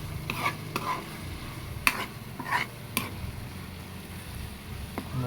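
Shrimp paste (bagoong) sautéing in a pan, a soft steady sizzle with a few sharp clinks of a utensil stirring against the metal, close and alone with no talk.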